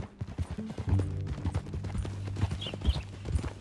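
Horse hooves clip-clopping at a steady walking rhythm in the Red Dead Redemption 2 video game, close and clear over a low hum, with a faint whinny near the end.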